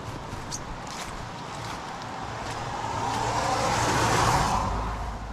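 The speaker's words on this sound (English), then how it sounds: "Too many cars coming by here." Cars pass on a road near a beach pier, a broad whoosh of tires and engines building to a loud close pass and then easing off, with no one speaking.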